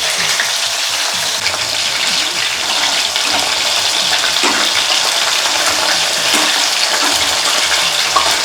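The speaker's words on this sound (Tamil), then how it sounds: "நல்லா 2 பக்கமும் செவக்க வறுக்கணும்" Prawns frying in a pan of hot oil, a loud, dense, continuous sizzle and crackle with occasional soft stirring scrapes, very close and without talk.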